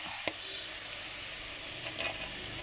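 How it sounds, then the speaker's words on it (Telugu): Okra pieces frying in a pan with turmeric, giving a steady, moderately quiet sizzle with a couple of faint clinks as the pieces go in. "దీంట్లో బెండకాయ ముక్కలు వేసుకుందాం."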